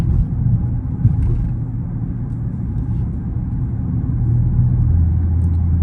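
A Dodge Charger Scat Pack cruises on the road with a loud, steady low rumble of engine and tyre noise inside the cabin, rising slightly toward the end.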